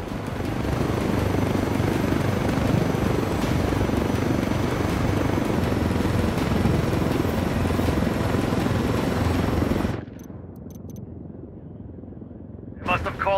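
Helicopter in Ghost Recon Wildlands flying close, a loud continuous rotor and turbine roar that cuts off abruptly, leaving a quieter muffled stretch with a few short bursts at the end.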